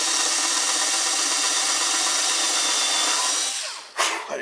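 A power drill whines steadily while boring into parts of a Kadet LT 40 trainer model aircraft at a workbench, a close, high-pitched sustained tone that drops off near the end, followed by a brief clatter.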